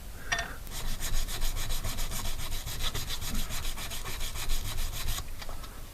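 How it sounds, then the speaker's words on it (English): Rapid back-and-forth sandpaper strokes scrub a wooden paddle clean down to bare wood, a loud, close, rhythmic rasp that stops abruptly near the end. "Next thing is clean them off with sandpaper so it's just down to the wood."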